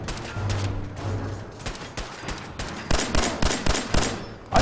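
Rapid gunfire from a gun in Fallout 4, a dense fusillade of sharp cracks that grows louder and more frequent toward the end, with clattering impacts mixed in and no talking.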